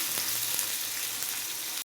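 Chicken sizzling steadily in a hot pan while being stirred, a dense, even frying hiss with a few soft scrapes, close and alone until it cuts off abruptly.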